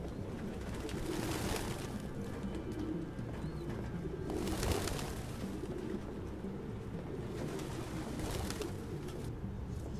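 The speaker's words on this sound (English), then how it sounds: "God, pigeons, move!" Pigeons coo softly in the video game Detroit Become Human, a steady murmuring of calls beneath an even background hiss, with a few louder bursts that rise and fade.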